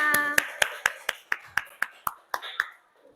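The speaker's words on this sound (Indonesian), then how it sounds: "Tepuk tangan untuk kita semua." A class of students claps together in a steady rhythm in a classroom, about eleven crisp claps at roughly four per second that end after three seconds.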